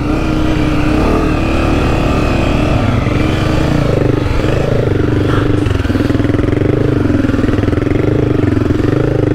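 A Honda CRF250F dirt bike engine labours through deep sugar sand on a trail ride, a loud, continuous close-up drone with wavering revs and a rough, clattering tone throughout.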